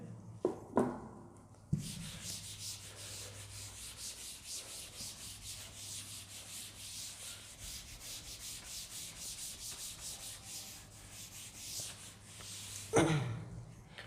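Writing being rubbed off a classroom board during a physics lesson, a steady, continuous scrubbing that runs for about eleven seconds, fairly close and alone, with brief knocks at the start and end.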